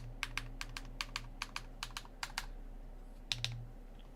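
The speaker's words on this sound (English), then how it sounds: "that is a Hall effect keyboard. So sounds really nice for Hall effect." Someone types on a NEO65 Cu Hall effect keyboard with HMX Hades switches and WinMix Cream Blue keycaps, producing crisp, evenly spaced keystrokes in a quiet room with a short pause near the end.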